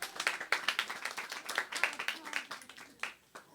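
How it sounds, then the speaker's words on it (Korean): Church congregation clapping in a steady burst of many hands, fairly close and lively, mixed with scattered voices and faint talk throughout, thinning out toward the end. "박수."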